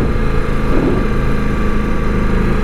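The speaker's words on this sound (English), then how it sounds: "it feels as smooth as you'd expect a four-cylinder too, but it's got a bit more of that twin character with the sound" The four-cylinder engine of a 2022 Ducati Multistrada V4 motorcycle, ridden through town, gives a loud, steady drone that hums evenly from start to end without rising or falling, with no speech.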